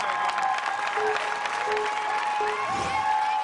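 A climber's boyfriend and parents cheer her on from the sidelines of an obstacle course competition, blending into steady crowd applause and cheering with tonal music running underneath throughout.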